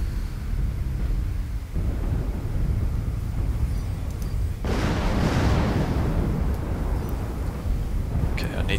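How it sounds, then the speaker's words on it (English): Airstrike explosions in a video game, heavy rumbling booms that swell into a loud roaring blast midway, with a voice talking over the low continuous rumble. "When you see red smoke, it means someone has launched an airstrike."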